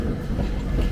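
A Toden Arakawa Line Sakura Tram rolls past close by with a dense, rumbling rattle of wheels on track, loud and continuous for a brief moment without any talking.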